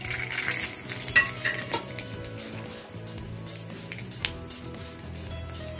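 Chana dal frying in hot tempering oil alongside cumin seeds, sizzling steadily with light stirring and clinks of a utensil against the pan.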